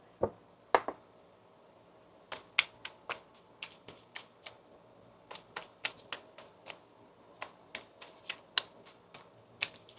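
Tarot cards being shuffled by hand, a run of crisp, snappy riffling clicks in quick irregular bursts, close and fairly quiet, with no one talking.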